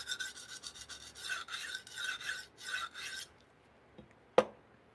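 A knife blade is sharpened on a stone in steady rhythmic rasping strokes, quiet and close, followed by a couple of soft knocks.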